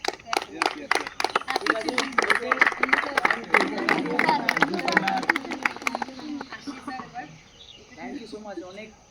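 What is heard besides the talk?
children clapping for Children's Day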